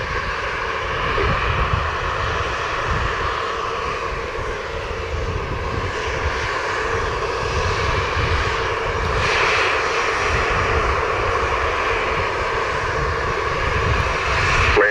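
A Delta Airlines jet takes off at Montego Bay, Jamaica, with a sustained, loud engine roar that holds steady across the whole stretch.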